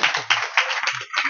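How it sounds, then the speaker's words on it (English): A room of party guests gives a warm round of applause for Susan Monroe at a going-away party, dense clapping in bursts that swell and dip, close and loud, with some cheering voices mixed in. "Please give a warm round of applause for Susan Monroe."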